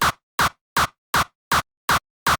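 A Serum preset kick with a short reverb punches seven times in a steady, evenly spaced rhythm, each close, loud hit trailing a brief tail before silence.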